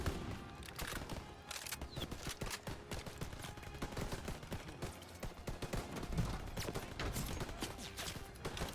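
Video game gunfire in Call of Duty: dense, continuous bursts of rapid shots and machine-gun fire at moderate level, with scattered louder reports throughout.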